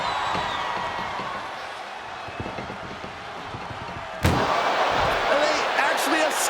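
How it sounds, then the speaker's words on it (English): A single hard ambulance door slam rings out sharply partway through, set against a noisy crowd roar and commentary in WWE 2K25 during an Ambulance Match. "Trying to at least slam one door shut."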